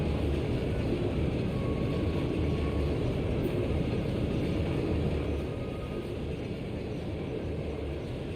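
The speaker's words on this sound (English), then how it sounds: "It's a freight train from Barrierheart?" Freight train carrying heavy armored tanks rolls past in the video game Trails of Cold Steel, a steady loud low rumble filling the whole stretch, easing slightly toward the end with no voices.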